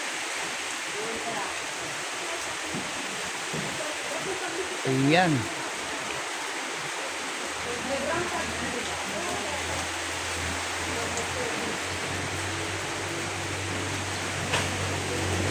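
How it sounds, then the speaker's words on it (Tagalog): Heavy rain pours steadily at dawn, a constant broadband hiss filling the scene throughout, with a person briefly speaking over it. "Grabe pa rin ang ulan."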